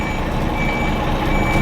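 A lorry's reversing alarm sounds as the truck goes into reverse during a Category C reversing exercise: a steady high electronic tone over loud, continuous diesel engine rumble, close by.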